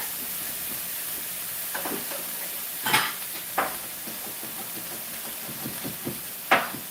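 Onion sautéing in a pan: a steady sizzling hiss broken by several sharp scraping clacks of stirring, close and fairly loud, with no voices.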